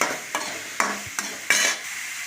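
Onions and tomatoes sauté in oil with a low sizzle, broken by four or five sharp spatula scrapes against the pan at uneven intervals.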